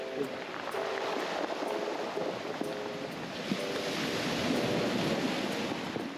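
Water waves wash and splash steadily and fairly faintly in the background, a continuous surf-like rush with some wind across the microphone and no talking.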